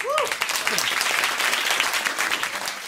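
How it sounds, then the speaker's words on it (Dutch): A short burst of applause, dense clapping from a crowd, with a brief whistle-like tone at the start. "Joost, even een applaus."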